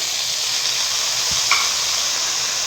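Chopped garlic, pepper, onion, tomato and carrot fry in a pot with an even, loud sizzling hiss, broken only by a faint soft knock and a tiny clink.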